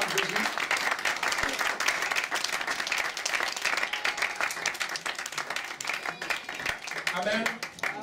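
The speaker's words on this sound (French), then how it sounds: "Quelqu'un acclame Jésus." A church congregation applauds and acclaims Jesus with sustained, dense clapping throughout, mixed with voices calling out and cheering.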